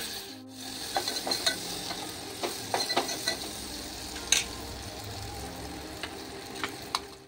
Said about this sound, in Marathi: हळद अशी कांद्याबरोबर तेलात थोडी भाजून घेत आहे